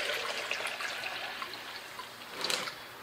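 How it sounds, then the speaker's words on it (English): Water is poured over a large homemade rock tumbler barrel, making a steady, fairly quiet splashing trickle for a few seconds with a slightly stronger gush near the end. "Get some good water on it."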